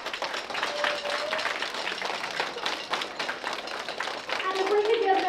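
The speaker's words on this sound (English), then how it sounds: "band students, if you could please give your parents a round of applause for all their support" Band students at a sixth-grade school concert clap for their parents. The clapping is dense and continuous, fairly close, with voices and cheering mixed in, and it swells louder near the end.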